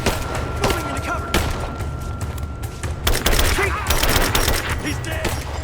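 Gunfire in Rise of the Tomb Raider: steady rattling bursts of combat shots with booms and impacts, loud and continuous, with battle voices shouting beneath the shooting.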